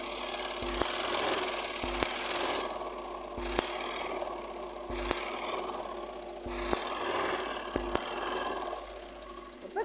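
A sewing machine stitches a folded quarter-inch sleeve hem in quick, rapid bursts separated by short pauses and sharp clicks, fairly quiet and steady, with no talking.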